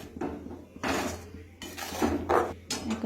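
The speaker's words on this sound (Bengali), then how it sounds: "এইভাবে নাড়তে থাকি" A spoon scrapes and knocks against a pan as coriander leaf chutney is stirred, several close, uneven bursts of clatter and scraping over a few seconds.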